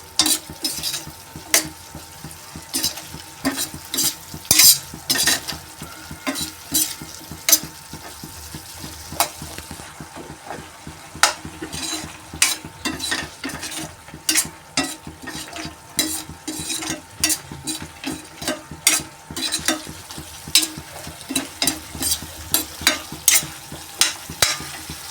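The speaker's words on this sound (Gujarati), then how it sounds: "મસાલો બરાબર આપણે મિક્સ કરીશું" A spoon stirs chole masala in a pan, scraping in quick repeated strokes over a steady close sizzle, with occasional clinks against the metal and no voices.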